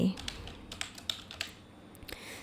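Quick, light keystrokes tapped on a computer keyboard while entering a formula, a handful of separate clicks spread across a couple of seconds, close and fairly quiet.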